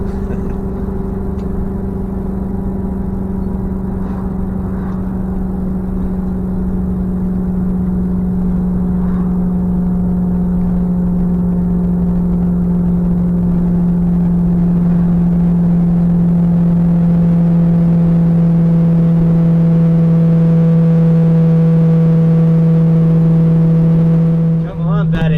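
A 30-year-old RV engine labouring uphill in second gear toward Colorado's Lizard Head Pass, a loud steady droning hum with a constant low pitch that holds for the whole stretch, close and unbroken.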